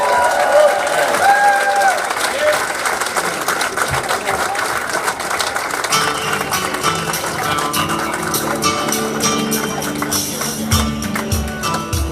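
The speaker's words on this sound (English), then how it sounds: "big round of applause for Senator Ted Cruz" A crowd at a Q&A event applauds Senator Ted Cruz loudly in New Hampshire with dense, sustained clapping that continues for the whole stretch, with some shouts and voices mixed into the noise.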